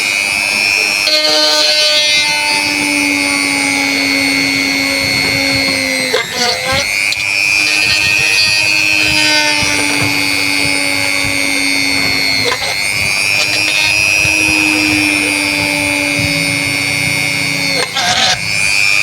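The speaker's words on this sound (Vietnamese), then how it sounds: "Bây giờ mình sẽ tiếp tục khoan các bạn ơi." An electric drill bores holes in an LED light panel. Its loud, close, high-pitched motor whine runs in long stretches, and its pitch drops and recovers briefly as each hole is finished and the next begins.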